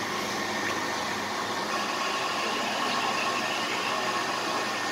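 A steady, broad rushing roar of an SRT Red Line electric train passing Taling Chan Station, even and continuous at moderate loudness, with no voices.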